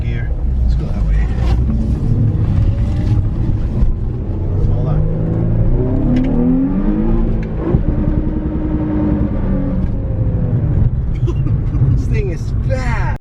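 The engine of a car with a troublesome clutch hums and revs steadily while driving, rising and falling in pitch as it pulls, with voices talking over it.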